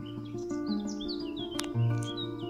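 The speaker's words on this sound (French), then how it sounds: "Hyper calme, mis à part les oiseaux," Small birds chirp and tweet repeatedly in a very quiet outdoor spot in the spa town of Merano, their short high calls scattered over a steady low hum.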